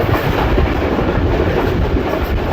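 The Pakistan Express passenger train rolls along the rails as it nears a station, making a loud, steady rumbling clatter heard close from on board, with no voices.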